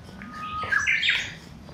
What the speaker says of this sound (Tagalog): Tunog ng ibon